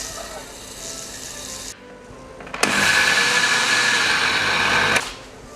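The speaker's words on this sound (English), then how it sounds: "crush them in a blender." A kitchen blender crushes cooled toasted sesame seeds for melomakarona: a softer whir first, then after a short gap a loud, steady grinding burst of about two seconds before it cuts off.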